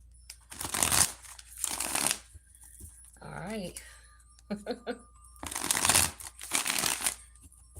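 Several bursts of cards being shuffled with a crisp riffling rattle, separated by brief pauses, with a person speaking briefly between shuffles.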